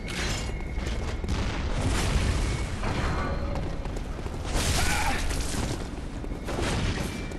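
Booming cannon blasts and explosive bursts from a boss in the video game Bloodborne, loud and dense, rolling over a busy battle din with several heavier impacts across the stretch.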